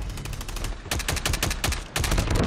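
An AK117 assault rifle sprays rapid automatic fire in a Call of Duty match, loud close bursts of sharp cracking shots that break off briefly before resuming.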